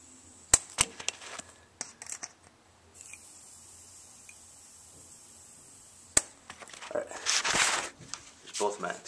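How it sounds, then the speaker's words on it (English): Gas fills a KWA LM4 airsoft rifle magazine: a few sharp clicks and taps come first, then a loud, sustained hiss bursts out near the end. "So put this up and I'll just put some gas in here."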